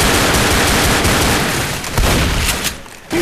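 Gunfire in the shooter game Left 4 Dead, with loud, dense bursts of shots in rapid succession and a brief lull near the end before firing resumes.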